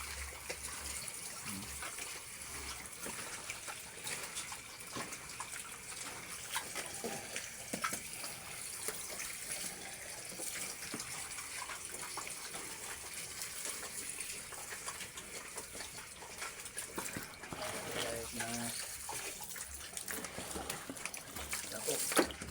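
Tap water runs in a continuous rushing stream over market-bought food being washed, with faint clatter and handling noises mixed in throughout.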